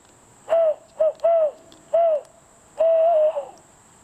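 A large owl hoots close by outdoors, with five loud tonal calls in an uneven rhythm, the last one longer and wavering, and no talking over them.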